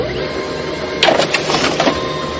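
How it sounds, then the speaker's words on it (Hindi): A printer in an office setting mechanically whirs as it pushes out jammed paper, a loud continuous motor drone with a few sharp clacks and rattles in the middle; no voices. "प्रिंटर में अटका हुआ कागज पूरी तरह से बाहर निकल गया"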